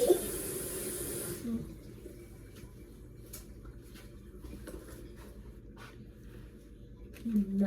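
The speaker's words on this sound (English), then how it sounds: "I'm gonna wash my hands" A kitchen tap runs briefly at the start as hands are washed, a soft hiss of water that cuts off after about a second, followed by quiet handling noises and faint talking.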